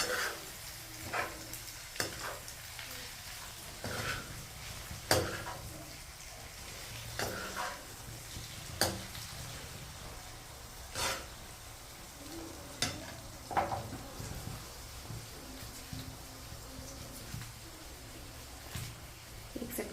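Prawns fry with pepper powder in a pan, a steady low sizzle broken by repeated scraping stirs every second or two, close and fairly quiet.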